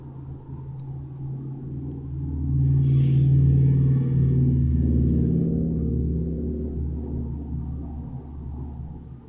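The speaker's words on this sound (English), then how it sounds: "Do you hear traffic?" Road traffic passing outside a home, a low rumble that swells as a car goes by, peaks and slowly fades, heard alone without talk.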